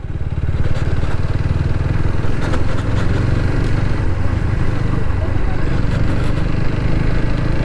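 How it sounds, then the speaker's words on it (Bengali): A TVS Apache RTR 160 4V motorcycle running out of fuel sputters and jerks, its engine loud and close with an uneven pulsing beat, while someone talks over it. "তো বাইক কিন্তু প্রচুর ধাক্কানো শুরু করে দিছে।"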